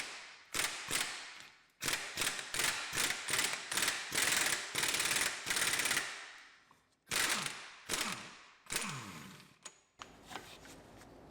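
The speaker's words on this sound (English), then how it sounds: "So now take our 32 long socket again and remove the nut." A ratchet with a 32 mm long socket turns a drive shaft nut off an Audi Q7, Touareg or Cayenne wheel bearing assembly, in quick rapid clicking runs, close up, with brief pauses between strokes.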